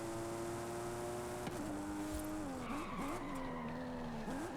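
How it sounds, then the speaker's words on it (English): Car drifting in Forza Horizon during a Cosworth seasonal championship race, a sustained tire skid and squeal layered over a droning engine that shifts pitch as the car slides, loud and continuous without talk. "Initiated the drift ever so slightly."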